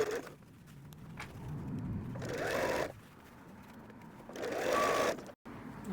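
Sewing machine stitching a messenger bag, a soft mechanical whir running in two short bursts with quieter handling between, heard at moderate distance.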